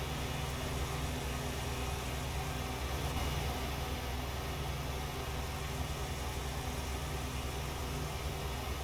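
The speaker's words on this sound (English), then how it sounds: "That car sounds absolutely horrendous." A car engine in American Truck Simulator drones at a steady, rough, noisy idle, sounding unhealthy, with no other sounds.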